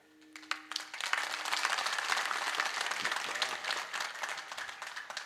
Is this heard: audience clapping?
yes